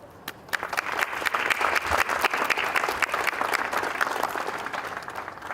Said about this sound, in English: Would you join me in a round of applause for each person who had a part in making today possible with this stadium?